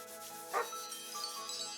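A dog in the Chained Echoes video game gives a single short bark, quiet and brief, over soft tonal game music.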